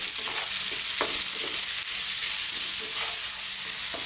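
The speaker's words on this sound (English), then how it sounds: "Let's just throw these around in the pan." Potatoes frying over fairly lively heat in a pan for an aloo fry masala curry, a steady close sizzle broken by a few soft clatters as the pieces are tossed about.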